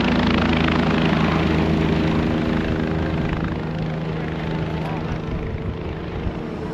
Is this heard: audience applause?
no